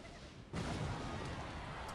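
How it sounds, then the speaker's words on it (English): Fireball spell striking in a Clash Royale-style mobile game: a sudden broad fiery burst halfway through, followed by a sustained roaring crackle that stays loud to the end, with faint talk mixed in. "I guess I'll fireball right now"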